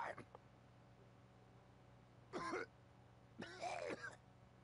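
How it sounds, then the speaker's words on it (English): A character in Dragon Ball Z: Kakarot coughs in two rough bursts, quiet and fairly close, after a brief opening grunt, with a low game hum between them. "why do they cough like that?"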